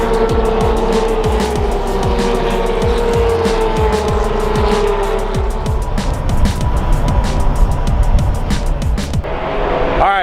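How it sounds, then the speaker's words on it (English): Formula Ford open-wheel race cars roar loudly and continuously at Pitt Race during a vintage grand prix, engines revving and shifting as cars pass close by, with tire noise and no talk. "We're watching the Formula Fords, which is pretty cool."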